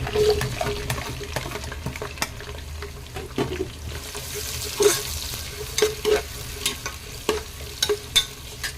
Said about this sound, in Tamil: வெங்காயத்தை நல்லா வதக்கிடுங்க